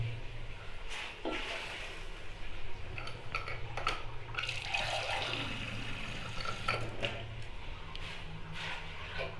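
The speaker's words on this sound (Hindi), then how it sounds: "3 कप पानी डाल देंगे।" Three cups of water are poured into a pot of chicken pulao with tamarind, a splashing, gurgling pour with a few clinks of the pot, close and moderately quiet.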